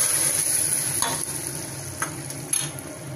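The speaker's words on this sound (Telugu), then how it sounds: "తర్వాత ఆ పోపు తీసుకొని దీంట్లో వేసుకోవాలి." Hot tempering is poured into spinach lentil dal with lemon, giving a close, continuous sizzle with stirring scrapes and a few sharper crackles, no voices.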